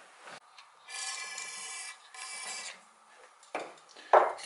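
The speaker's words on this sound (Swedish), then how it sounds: "Vi försöker att skrapa rent lite runt här" Scraping and rubbing at dirt around a part of a Gravely tractor, a dry rasping sound in several bursts with short pauses, close and moderately loud, ending in a sharper scrape.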